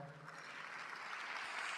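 Applause from a karaoke event audience, a steady broadband clatter of many hands that swells slightly and holds at moderate level throughout, with no voices over it.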